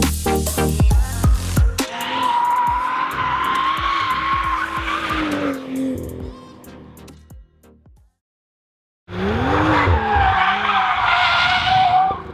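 A car drifting with loud tire squeal and engine roar that breaks off into a sudden wobble, then a gap of near silence before another long, loud skid with high revs takes over.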